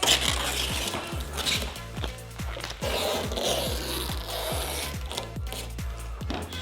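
Cutting string drawn through vinyl wrap on a van panel, giving a steady close scraping rasp with a rapid train of regular low clicks and ticks running throughout.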